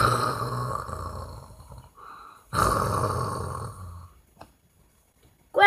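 A person imitates snoring with their voice, mixing loud, low and ordinary snores: several rough, rasping snore bursts of uneven length separated by short pauses, with one long, loud snore in the middle and a sharp final burst.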